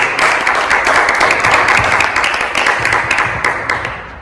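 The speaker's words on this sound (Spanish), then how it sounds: "Denle un aplauso al Señor." Church congregation applauding together, a loud, dense and continuous patter of many hands clapping close by, with sharper individual claps popping out of the steady roar.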